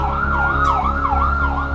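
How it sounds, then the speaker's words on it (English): A Hatzalah private ambulance siren wails loudly nearby in a rapid, repeating up-and-down sweep, several cycles in a row over engine rumble, with no speech. "That was the private organization, the private ambulance."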